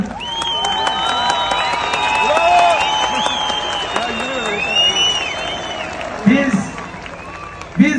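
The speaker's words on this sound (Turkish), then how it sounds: "Konseri iptal edelim diyen arkadaşlar alkışlasınlar." A concert crowd, held up by rain, claps and cheers to vote on cancelling the show. The clapping is loose and uneven, with voices, calls and whistles mixed through it and a few louder bursts near the end.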